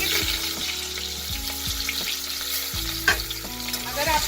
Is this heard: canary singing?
no